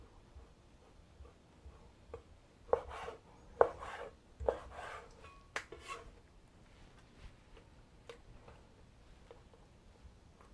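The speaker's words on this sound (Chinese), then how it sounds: "好，我们就切片，就这样直接这样切就可以了" A knife slices straw mushrooms and tomatoes crosswise on a cutting board for Thai hot and sour soup, giving a handful of sharp, separate taps spaced unevenly, close by and fairly quiet over a soft background.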